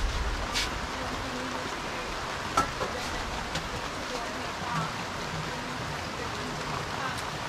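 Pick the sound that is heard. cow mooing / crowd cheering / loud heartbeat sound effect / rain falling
rain falling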